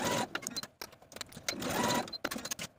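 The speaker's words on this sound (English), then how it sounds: "Sew both of these sleeve facings with a 3/8 inch seam allowance" A domestic sewing machine stitches sleeve facings on a Wren dress with a 3/8 inch seam allowance, whirring in quick bursts with short pauses, close and fairly quiet.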